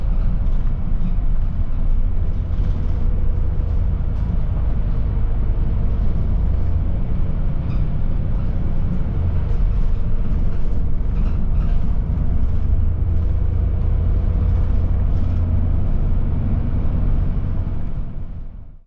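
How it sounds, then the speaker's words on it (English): Bus rolling along the coastal road at Penmaen Bach Point with a car overtaking, a loud continuous engine and road rumble that holds steady for the whole stretch before tapering off at the end. "As the bus is passing the site of the recent fatal accident, note the pace of an overtaking car."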